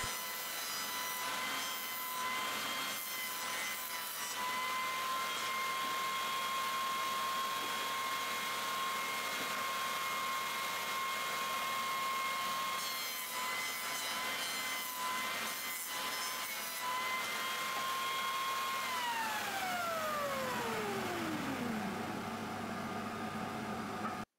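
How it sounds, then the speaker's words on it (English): A wood jointer planes pieces of pallet hardwood for laminated step-stool legs, a loud steady high whine with cutting noise running throughout, then the motor pitch falls away as it spins down at the end. "to make my laminated legs glue up tighter, I'm running both pieces in the joiner"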